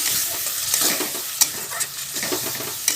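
Spice paste with yogurt sautéed and stirred in oil in a pan for a katla fish curry, loud close sizzling with scraping strokes and a few sharp clicks of the spoon, no speech.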